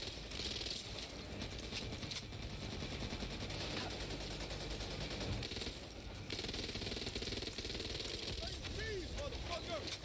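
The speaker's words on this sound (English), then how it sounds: "This is satisfying gunplay." Sustained automatic gunfire from the zombie shooter Back 4 Blood, dense and continuous at close range, with a brief lull near the middle before the rapid shots resume.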